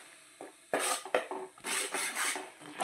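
A utensil scrapes and knocks against a pan while fish curry is stirred, a string of loud rasping strokes with brief pauses between, close and without talk.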